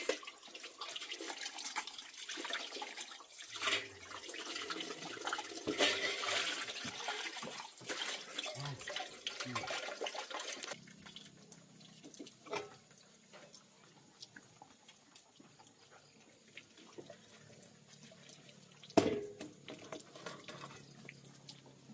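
Water runs steadily from a tap, a broad hissing splash that shifts in intensity, with a few knocks and clatters near the end.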